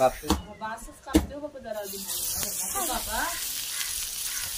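Pieces of food, including liver, sizzle and spit as they fry in a hot pan, with a steady hiss building after a few sharp crackles and a voice speaking over the start.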